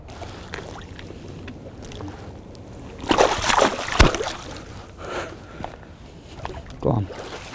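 A small pike slipped back into a river by an angler, giving a burst of water sloshing and splashing near the boat at mid-clip, with a sharp splash, then quieter lapping and a final small slosh.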